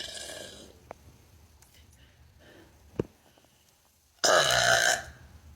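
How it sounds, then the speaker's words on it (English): A person lets out a loud, close burp near the end that lasts under a second and is the dominant sound. Smaller mouth sounds and breaths come before it in an otherwise quiet room. "I'm going to burp and see how loud my burps are"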